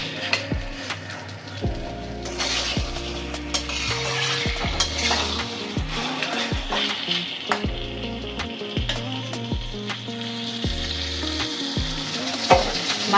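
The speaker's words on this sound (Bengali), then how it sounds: "মাছটাকে ভালো করে কষিয়ে নেব এই মশলার মধ্যেই।" Catfish pieces sizzle and fry in oily spice masala in a pan, with a steady crackle broken by repeated sharp knocks and scrapes of a utensil stirring against the pan, close and alone.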